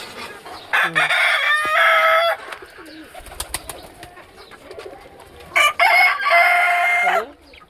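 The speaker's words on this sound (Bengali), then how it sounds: "সাতটা বাচ্চা আছে মুরগির।" Backyard poultry, a hen with her chicks and a rooster, heard up close as the rooster crows loudly twice, once early and once near the end, with softer clucking and chatter between the calls.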